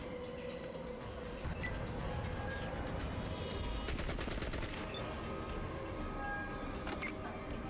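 A rapid burst of machine-gun-like gunfire in the video game Fallout Tactics rattles over a steady background of game noise. It is fairly faint.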